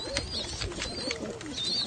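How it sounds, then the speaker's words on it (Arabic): Soft, continuous cooing of a group of young pigeons, several birds murmuring together at moderate distance, with faint higher chirps over a low hum. "مجموعة حمام من طنطا، بقى 13 زغلول"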